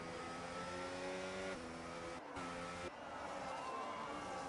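A safety car in a racing video game, a steady loud engine drone with shifting harmonic tones and brief dips, no talk over it.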